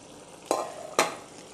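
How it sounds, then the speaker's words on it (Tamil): Pallipalayam chicken stirred in a pan while cooking, with two distinct scraping strokes of a spoon against the pan over a faint sizzle, close and moderately loud. "அடி பிடிக்காமல் அப்பப்போ எடுத்து நல்லா கிளறி விட்டுருங்க."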